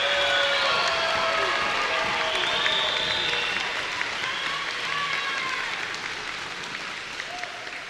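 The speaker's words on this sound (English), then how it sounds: "Let's give all of our graduates one more round of applause and congratulations." Audience applause for graduates at an evening commencement ceremony in an arena, a dense, steady clapping from a large crowd, loud at first and slowly thinning out, with faint cheers and scattered voices mixed in.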